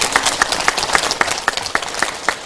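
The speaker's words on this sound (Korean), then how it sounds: "다 같이 아멘으로 또 박수로 화답하시기 바랍니다" A church congregation claps in response at the end of a sermon; crisp claps fall in a steady rhythm, about four per second, over a broader bed of crowd applause.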